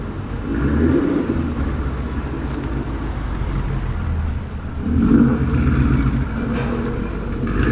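Ford Mustang GT rolling in slowly for a wheel alignment, a low steady engine rumble with two gentle swells of throttle, fairly close, no talk.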